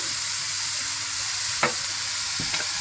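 Ingredients for Chinese rice fry in a pan with a steady hiss of sizzling oil, broken by a couple of brief scraping strokes as a utensil stirs them.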